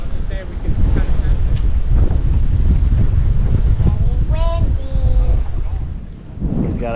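Heavy wind buffets the microphone on a fishing boat during bass fishing in the Everglades, a loud continuous low rumble with gusty surges throughout, with brief voices talking in the middle and near the end.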